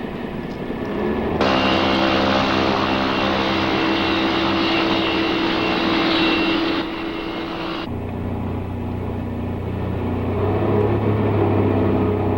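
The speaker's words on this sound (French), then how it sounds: "Nous allons décoller d'un moment à l'autre." Airplane taking off, a loud steady engine roar that swells abruptly, holds as a broad wash of noise with a high whine, then drops to a lower, quieter drone, with no talk.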